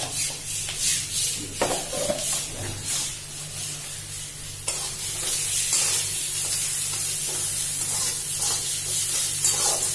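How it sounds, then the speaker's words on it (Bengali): Onion frying in a pan, a constant close hiss with irregular scraping stirs, the sizzle growing brighter and louder partway through, no voices. "পেঁয়াজটা ভাজা হয়ে গেছে"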